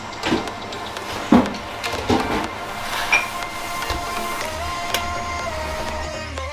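Coffee beans ground in an electric grinder, a coarse, rattling mechanical whir with a few clunks and knocks, fairly close and steady, no talk.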